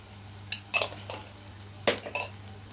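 Spice masala with coconut and cashew milk being stirred in a pan: a few spaced clinks and scrapes of a utensil against metal over a quiet low hum, close but soft.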